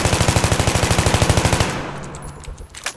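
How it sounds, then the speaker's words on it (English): Rapid automatic fire from an AK rifle fitted with a foregrip in Battlefield 3, a steady loud burst of evenly spaced shots for about a second and a half, then stopping as faint game ambience and scattered distant noises remain. "I'm gonna die over here real quick and just fire, and you guys can see what the AK looks like with the foregrip"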